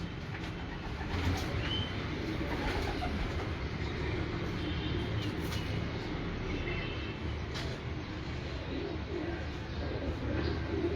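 Pigeons kept by a fancier in a loft coo softly and repeatedly against a steady, dense background hum, with faint bird calls scattered through the scene.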